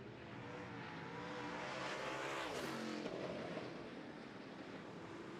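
Modified race cars with crate motors racing on an oval track, a loud continuous engine roar that swells as a car passes close and then fades, with wind buffeting the microphone.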